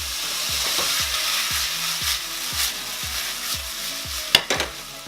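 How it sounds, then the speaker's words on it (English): Soy sauce sizzling in a frying pan of loco moco, a soft steady fry under a regular rhythm of spatula scrapes and taps, with a few sharp clacks near the end. "this is where I'm gonna start adding probably a good couple tablespoons of the soy sauce"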